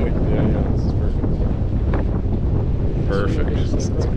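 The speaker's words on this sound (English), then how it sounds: "But it's quite windy now." Strong wind buffets a sailboat at anchor on open water, a loud, constant roar and rumble over the microphone that never lets up.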